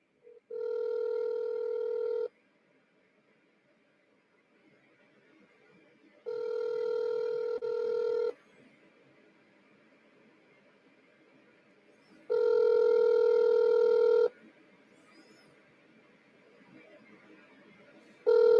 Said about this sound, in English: Let me phone him.